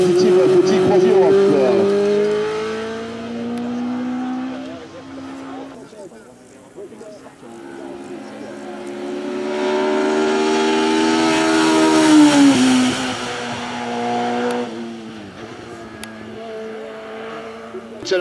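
A GT race car in the GTTS class launches on a hillclimb run at Mont-Dore, its engine revving hard through rising gear shifts and fading into the distance, with commentators talking over it.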